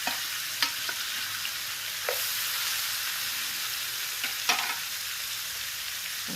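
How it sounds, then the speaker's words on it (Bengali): Olives fry in a pan to dry them for a sweet, sour and spicy pickle. A steady, even sizzle hisses throughout, broken by a few sharp stirring clicks, close and fairly quiet. "আমি জলপাইগুলিকে একটু ভেজে নেব যেন কোনো অবস্থায় জলটা না থাকে একটু ফ্রাই করে নিচ্ছি"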